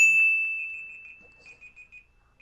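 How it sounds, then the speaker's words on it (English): A bell in a video game gives one bright ring at the start, and its clear tone fades slowly. A few faint, softer repeats of the same pitch follow, and nobody speaks. "you know what that bell means"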